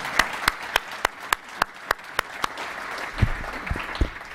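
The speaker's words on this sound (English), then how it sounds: "can we have a round of applause for all of our great speakers?" Audience applause for panel speakers at an economics conference, sparse individual claps in a steady rhythm at first, then thickening into a fuller round of clapping toward the end.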